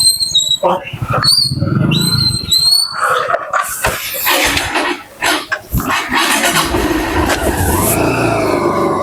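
A car is started and driven off in a village drama scene, with a rising engine roar over the second half after several voices talk at the start.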